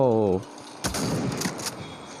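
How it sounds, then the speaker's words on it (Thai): In the zombie video game Into the Dead, a shotgun fires in a couple of sharp, loud bursts close together, following a short sustained tone and with a voice talking around the shots. "ลูกซองเริ่มยิง"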